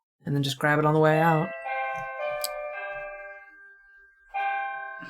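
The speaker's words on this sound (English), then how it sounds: "That was our doorbell." A doorbell plays a multi-tone melodic chime, sustained ringing tones heard under and between nearby speech.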